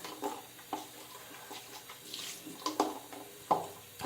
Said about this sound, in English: Now I'm just going to wash it out